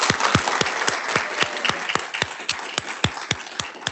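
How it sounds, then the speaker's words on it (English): Audience applause for a science panel at the close of a research results presentation, dense steady clapping from a crowd with sharp individual claps standing out, sustained and fairly loud throughout. "Let's give this panel a round of applause"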